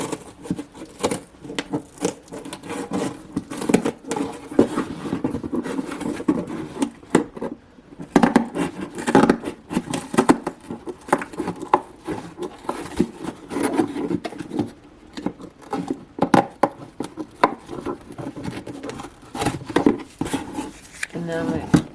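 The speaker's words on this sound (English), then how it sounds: "I'm just gonna take a regular box that was shipped to me. I'm gonna take this part, I'm gonna cut it out," Cardboard from a shipping box is cut apart with steady scraping, rubbing and rasping, close and continuous with brief pauses, running for a long stretch with talk woven in among the cutting.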